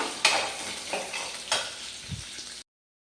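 Peanuts and dal frying in a pan for chutney, with a steady sizzle and a few louder scraping stirs against the pan, close and without voices; it stops abruptly near the end.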